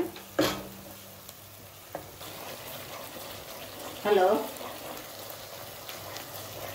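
Chopped green chillies frying in a pan, a faint, low sizzle with a sharp clatter at the start and a brief burst of clinking and stirring midway, voices in the background.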